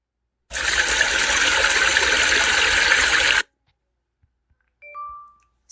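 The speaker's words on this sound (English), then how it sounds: "This sound effect is used for water ambiences, etc." Water sound effect for ambiences: a loud, steady rush of running or gushing water lasting about three seconds and then cutting off abruptly, followed by a few faint, brief tonal blips.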